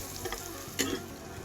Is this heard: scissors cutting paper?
no